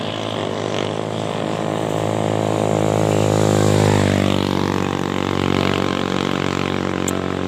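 Motorcycles ride by on a wet rural road in Miarayon, Talakag, Bukidnon: a strong, sustained engine drone that swells and then shifts downward as the bikes pass close by, followed by a fading tail.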